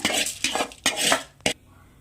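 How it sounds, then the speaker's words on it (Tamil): Roasted chana dal scraped and tipped from a pan onto a plate, giving a few short metallic scrapes and clinks of a spoon against cookware, close and fairly loud, with quiet pauses between. "நல்லா வறுபட்ட பின்னாடி ஒரு பிளேட்டில் மாற்றிக்கிங்க"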